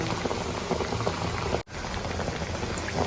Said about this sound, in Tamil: அப்பளம் வச்சு பாருங்க எப்படி புசு புசுன்னு வந்துட்டு இருக்குன்னு